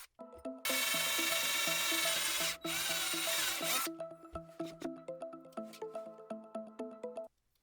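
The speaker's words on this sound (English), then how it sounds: "I drill a hole in the base cover," A loud, steady drill whine runs for about three seconds while boring a hole in an acrylic loudspeaker base cover, then gives way to a rapid series of short scraping strokes.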